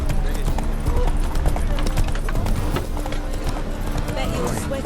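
Hooves of Roach, a horse in the video game The Witcher 3, trotting in a steady close clip-clop rhythm, with someone talking over it.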